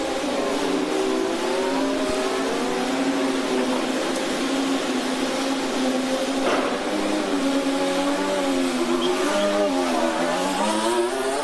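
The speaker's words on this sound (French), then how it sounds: "la sortie des stands, nouvelle sortie des stands pour Pierre Gasly" Pierre Gasly's Alpine Formula 1 car pulls out of the pit lane during Bahrain winter testing, its high-pitched engine whine climbing and falling through gear changes, loud and continuous without pause.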